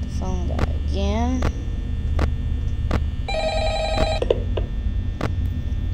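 A telephone rings in Five Nights at Freddy's as the night-shift call comes in, repeated sharp ring bursts spaced across a steady electrical hum, with a person talking over the first part.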